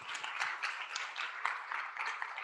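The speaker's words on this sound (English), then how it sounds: "Can we get a round of applause for our committee chairs?" Applause from a student senate audience for the committee chairs: a steady patter of many hands clapping together, moderately loud, with no talking.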